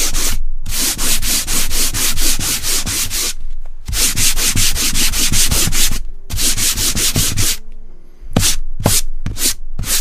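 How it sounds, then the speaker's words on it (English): Rhythmic back-and-forth sanding strokes on a canvas surface, loud and close, in quick repeated bursts with a few short pauses between runs. "I just realized I did not sand this canvas"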